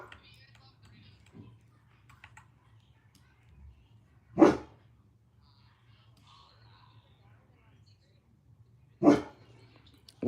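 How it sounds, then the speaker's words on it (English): A dog barks twice indoors, two single sharp barks several seconds apart, close and clear over a low steady hum, with faint ticking between. "Your dog made my dog bark."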